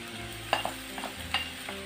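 Steady sizzling of onion and pork frying in a hot pan, with a few scraping stirs of a utensil against the metal.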